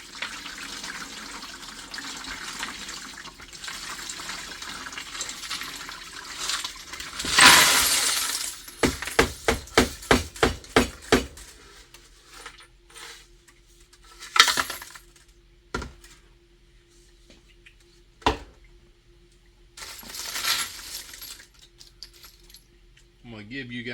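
Brass cartridge cases and wet tumbling media are dumped from a wet tumbler: a burst of pouring and rattling, then a rapid series of metallic clinks, followed by scattered single clatters and shaking, with talk in between.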